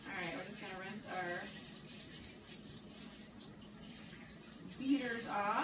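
Mixer beaters rinsed under a running kitchen sink tap: a steady close rush of water that gurgles and shifts as the beaters move through the stream, while a person talks over it at the start and end.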